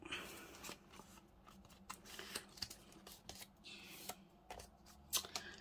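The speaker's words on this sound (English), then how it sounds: "I'm just going to get the trimmer just to straighten it." A paper trimmer cuts a book cover in a quiet room, heard as a series of close, sharp slicing and clicking strokes at an irregular pace, with no talking.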